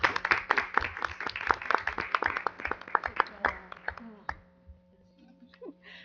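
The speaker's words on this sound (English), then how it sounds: "Let's give him a round of applause." Applause at a township council meeting, with dozens of sharp hand claps from a modest crowd that thin out and stop after about four seconds, ending in quiet room tone.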